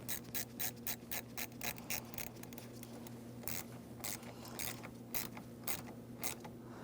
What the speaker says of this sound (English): we're sliding it onto the battery post as far as possible, and then you're tightening your 10mm mounting nut.